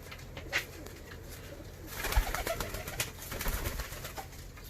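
Fancy pigeons coo inside their loft, soft throaty rolling calls repeating close by, growing busier and louder halfway through as several birds overlap.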